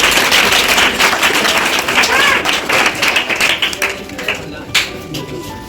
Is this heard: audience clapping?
yes